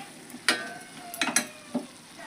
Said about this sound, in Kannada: ಕೊತ್ತಂಬರಿ ಹಾಕಿ ಮಿಕ್ಸ್ ಮಾಡಿ